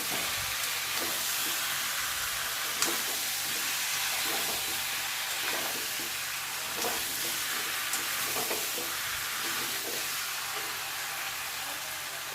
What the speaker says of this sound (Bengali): আবারও কিছুক্ষণ একটু আলু দিয়ে কষিয়ে নেব।